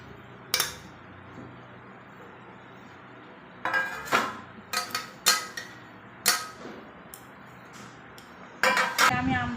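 Metal plates clink and clatter in short, sharp bursts while being greased with oil for making mango leather. Clusters of impacts sound close, separated by quiet gaps, and there is no clear talking.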